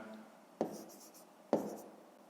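A pen writes on paper in a quiet room, two short scratching strokes close to the ear, faint and isolated.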